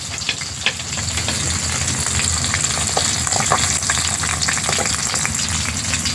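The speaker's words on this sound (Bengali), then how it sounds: "বাকি মাছগুলো এভাবে ভেজে নেব" Pieces of snakehead fish fry in hot oil for a Bengali fish curry, a steady, dense crackling sizzle that holds close and loud throughout with no talk.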